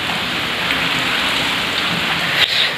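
Heavy monsoon rain in Uttar Pradesh, India, after about three hours of nonstop downpour, pours in a loud, steady hiss with no letup and a faint thump near the end.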